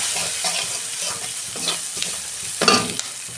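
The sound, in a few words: turmeric, coriander and cumin powder frying in a pan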